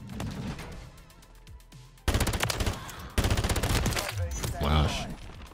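Rapid fully automatic fire from the FFAR, an automatic FAMAS-style rifle, in the Modern Warfare 3 video game, loud continuous bursts that start abruptly and run on with brief breaks, over the commentator's voice.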